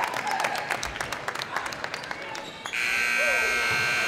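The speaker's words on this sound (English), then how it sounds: "right before the buzzer sounds" A loud electronic buzzer ends the first quarter of a high school basketball game between Dwenger and South Side, a sustained blare cutting in near the end over crowd noise and an announcer's voice.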